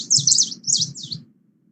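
A green warbler sings a short series of high, thin warbling phrases, three quick bursts close together, clear over a faint low rumble.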